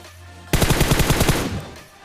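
A rapid burst of automatic rifle fire, an M416, in a battle royale video game: about ten evenly spaced loud shots over one second, then a fading tail, with no talk.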